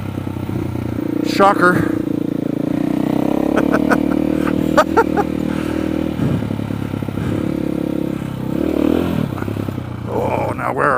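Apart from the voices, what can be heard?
off-road motorcycle engine, throttle blip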